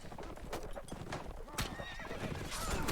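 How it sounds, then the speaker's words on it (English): Saranid horses gallop through a Mount & Blade video game battle, with dense overlapping hoofbeats, repeated whinnies and neighs, and clashing cavalry noise throughout, growing slightly louder toward the end. "These Saranid horses going down so fast."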